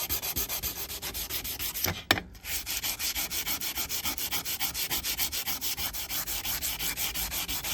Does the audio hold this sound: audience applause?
no